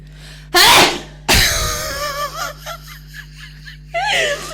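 A loud, close sneeze from someone with hay fever bursts out, followed quickly by a second sneeze, then a few breathy sniffs and a shaky, laughing exhale.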